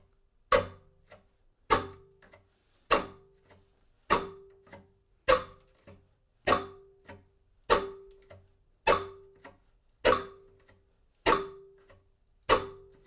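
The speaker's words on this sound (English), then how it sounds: "So now that we have that nice, even chopping sound and rhythm happening," Sharp, percussive chop bowing on a cello, about one per second in an even steady rhythm, each with a brief pitched ring, close and alone.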